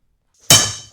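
A ratchet breaks with a single sharp metallic clang that rings out and fades during a torque test to failure, with silence before it.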